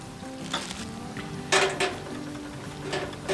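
Metal feet being screwed and set into the underside of a Camp Chef VersaTop flat top griddle, giving a few loud clanks and scrapes of metal on metal over a steady hum, with no talking.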